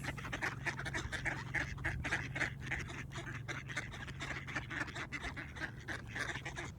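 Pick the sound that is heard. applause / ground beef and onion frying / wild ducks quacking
wild ducks quacking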